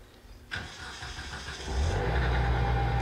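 A tractor engine on a sheep farm catches with a sharp start, runs at a mid-pitched idle, then revs up into a louder, deeper steady drone, close by and without talk.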